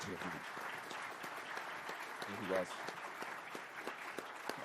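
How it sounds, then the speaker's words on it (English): Heartfelt audience applause for Medal of Honor recipients at a SOF Week panel, a steady wash of clapping throughout with a voice briefly speaking over it. "please join me in giving a heartfelt round of applause to these extraordinary warriors"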